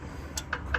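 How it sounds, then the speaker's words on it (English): A brake adjuster on a Rover 75 is wound, giving three sharp metallic clicks in quick succession, close and fairly quiet against a low background rumble. "2 or 3 clicks."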